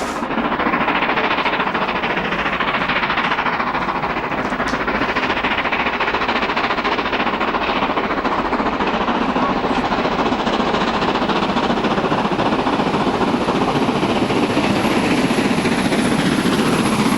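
Stanier Black Five 4-6-0 steam locomotive accelerating, a loud, continuous heavy roar of engine and rolling train close by, steady throughout with no speech.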